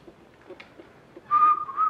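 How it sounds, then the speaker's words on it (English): Someone whistles a short, thin note that wavers slightly, heard in brief bursts in the last half-second after a few faint room noises, close and fairly quiet. "Can you whistle? Give us that."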